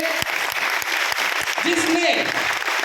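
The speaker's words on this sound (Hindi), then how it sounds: "तो एक बार शानदार तालियां माई लाइफस्टाइल के लिए" A crowd applauding, dense steady clapping throughout, with a voice briefly cutting through underneath.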